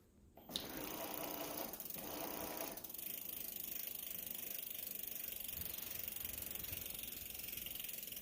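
The motor of a Schwinn Axum electric bicycle conversion starts on throttle at the lowest assist level, spinning up with a click into a steady, whirring mechanical buzz that continues evenly, fairly faint, with no talking.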